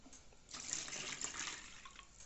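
Water pours steadily into a container for about two seconds, a soft continuous splashing rush close by with no voices.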